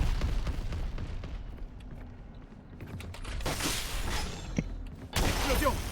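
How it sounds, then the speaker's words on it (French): Explosions in the game Valorant: booming blasts with crackling debris and shattering noise rise midway and flare again near the end over a busy, continuous background of game sound. "Explosion."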